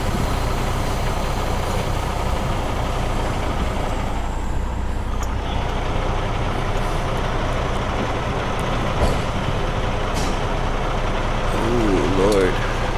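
A semi truck idles and backs toward its trailer, its low diesel rumble running steadily and close, with a person talking over it at moments.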